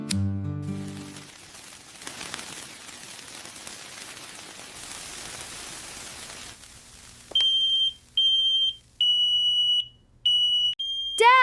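Smoke alarm going off indoors during a Fourth of July mishap, loud repeated high beeps in a steady on-off pattern after a stretch of noisy commotion, with voices around.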